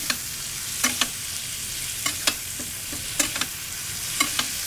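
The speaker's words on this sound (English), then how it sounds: "We'll bring this temperature down to medium, and we will baste our steaks." Steaks sear in a hot pan as they are basted with garlic butter: a steady close sizzle runs throughout, broken by a handful of sharp spoon clinks and spatters at irregular intervals, with no talking.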